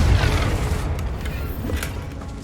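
Confringo explosion spell in Hogwarts Legacy: a single fiery boom bursts at the start and then decays into a fading rumble with faint crackling, at moderate loudness.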